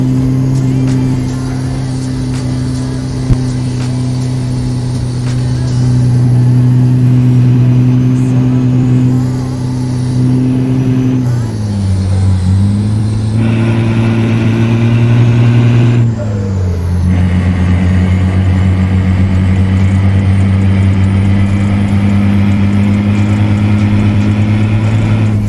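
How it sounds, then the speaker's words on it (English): A truck engine in American Truck Simulator, set in Texas, drones loud and steady throughout. Its pitch dips and climbs as the gears shift and the truck accelerates, with a faint hiss of brakes in the mix. "The engine's almost drowning out my voice"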